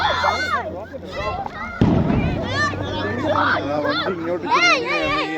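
Firecrackers burst at a New Year celebration, sharp bangs and crackles close by, with children shouting and talking excitedly throughout.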